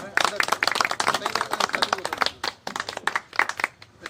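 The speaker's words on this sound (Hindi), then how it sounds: "तालियां बजती रहे" An audience claps at a welcome ceremony held at a Congress leader's residence, with uneven bursts of hand claps rising and falling under and between loud talking.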